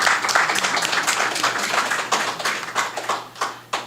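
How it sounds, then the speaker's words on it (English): An audience at the launch of the Caribbean Center of Excellence in Research, Innovation and Workforce Training claps in a steady, close round of applause that tapers off with a few final claps. "A round of applause, please."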